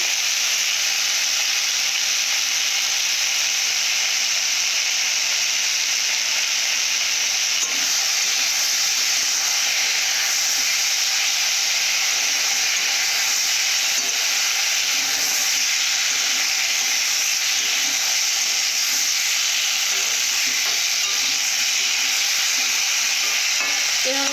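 Fish curry with rohu, turmeric and salt being stirred in a pan, a steady sizzle and hiss of frying running continuously with faint scraping throughout, no voices.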